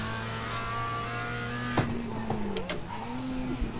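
Race car in a sim racing game, a steady engine drone with pitch shifts as gears change, ticks and clicks, moderate and close, with no voices.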